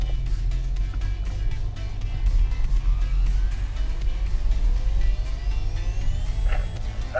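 A Land Rover climbs a steep slope off-road, its engine a steady low rumble close by throughout, with faint mechanical whine rising over it and no one talking.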